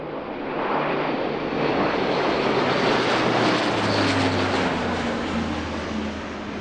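An Airbus A400M military transport aircraft flies past at the Festa al Cel 2019 airshow, a loud, sustained propeller-engine roar that swells and shifts pitch as it passes, heard alone with no talking.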